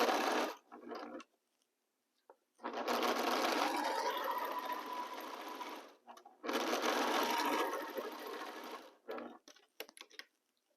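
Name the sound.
sewing machine stitching a quilt block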